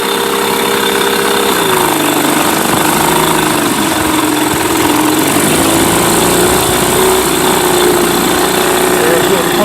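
A Mercury 8HP outboard engine idles steadily in gear after carb cleaner has been run through it. It gives a constant, loud drone that shifts pitch slightly near the start and then holds an uneven, rough rumble throughout.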